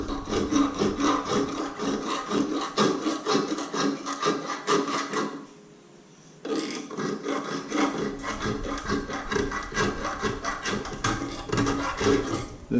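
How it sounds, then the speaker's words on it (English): Rasp filing a sterling silver ring by hand, loud rhythmic scraping strokes close up, with a brief pause midway before the filing resumes. "This rasp takes off material pretty quick, so be careful."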